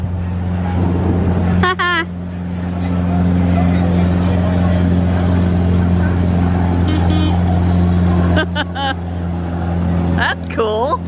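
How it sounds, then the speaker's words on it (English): An Amphicar amphibious car motoring on the water beside a floating dock at Disney Springs, its low steady engine hum droning throughout while people talk nearby and a few birds chirp. "Got an amphi car."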